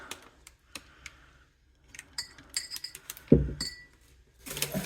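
A metal piping tip for buttercream is dropped into a glass of hot water, giving scattered sharp clinks and taps, one heavier knock, then a clatter.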